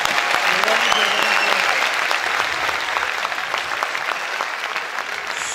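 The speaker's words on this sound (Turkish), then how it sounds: "lütfen kocaman bir alkış" Big applause from a concert audience at a music night, for children's choir singers and soloists, a loud sustained wash of many hands clapping with faint voices mixed in.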